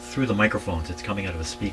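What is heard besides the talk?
No everyday noises stand out.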